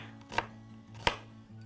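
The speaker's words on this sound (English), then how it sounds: "Okay, almost done with the chopping here." A knife chops onions on a cutting board in two sharp, evenly spaced strikes, close and distinct over a faint steady hum.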